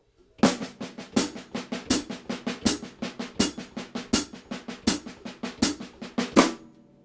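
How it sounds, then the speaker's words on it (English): A snare drum plays steady, even 16th-note strokes by hand in a quick continuous rhythm, with regularly accented hits standing out, close and crisp with no voices. "just play 16th notes with your hands on the snare drum"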